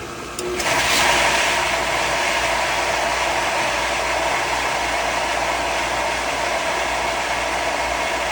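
A Polaris PB4-60 booster pump runs as a steady, fairly loud broadband hum and whir that starts within the first second and continues unchanged to the end, with no talking.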